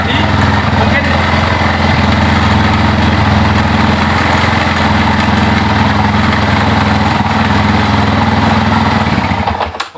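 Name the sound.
Yamaha Scorpio motorcycle engine running with choke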